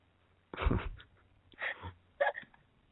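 A dog gives a few short, separate vocal bursts, like soft barks or snorts, with quiet gaps between them in an otherwise silent room.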